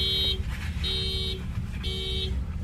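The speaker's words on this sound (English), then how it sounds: "he just set the alarm off on the car" A car alarm blares in repeated bursts of a steady high electronic tone, three pulses about a second apart. It sounds close and loud over a low rumbling vehicle background.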